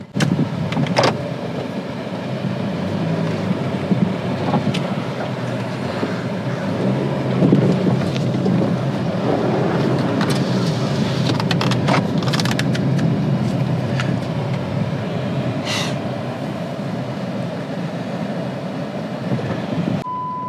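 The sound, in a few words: jeep driving on test drive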